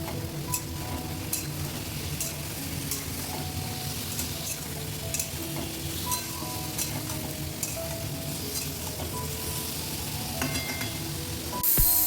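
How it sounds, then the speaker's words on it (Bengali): Potatoes dropped into hot oil tempered with nigella seeds fry with a steady, dense sizzle, joined by frequent stirring scrapes and a few light clinks of a utensil against the pan, with no voices. "একটু কালো জিরে সম্বারা দিয়ে কিন্তু আলুগুলো দিয়ে দিলাম তেলের মধ্যে"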